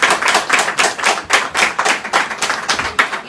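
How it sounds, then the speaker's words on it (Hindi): Rhythmic clapping of hands, a dozen or so close, sharp, evenly spaced claps continuing steadily with no talking. "बजा दो ताली"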